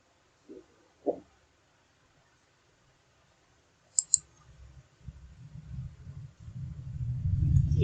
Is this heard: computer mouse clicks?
yes